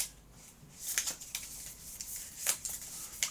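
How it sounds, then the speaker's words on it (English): Board game cards for Aeon's End: Outcasts being shuffled, a soft riffling rustle with several brief crisp bursts of card flicks, close and fairly quiet with no talk. "let's shuffle these here like that"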